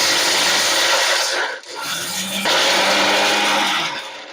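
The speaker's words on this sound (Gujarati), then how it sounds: "તો આ સિંગદાણા આપણે થોડાક પીસી નાખશું" A mixer grinder whirs loudly, grinding peanuts, with a brief dip around the middle before the grinding resumes at a steady roar.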